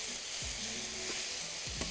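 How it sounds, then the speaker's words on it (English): Beef sautéing and browning in a hot pan, a steady close sizzle and crackle of frying throughout, with a couple of brief stirring scrapes and no talking. "I need some beef, and we are going to saute it, brown it, caramelize it,"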